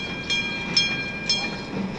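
A small single-track railway train in the Kaiserstuhl region rumbles past with a steady rolling noise and a few short rhythmic wheel clacks. It sounds moderately close and plays alone, with no voices.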